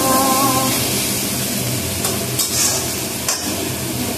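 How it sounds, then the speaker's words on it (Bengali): Food frying in a pan and being stirred, a continuous close sizzle broken by a few scraping stirs, with no talking. "তো আমার ভাজা দেখেছ, ভাজাটা হয়ে আর একটু হবে"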